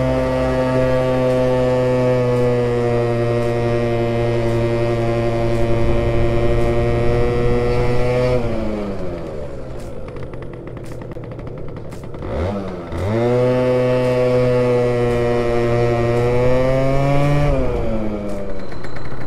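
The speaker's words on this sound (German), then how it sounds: "Man hört, die Kupplungsglocke schleift minimal." Yamaha Aerox 50cc scooter with a Malossi kit revving hard as a steady buzzing two-stroke, dropping off and surging back twice, with the clutch bell slightly grinding.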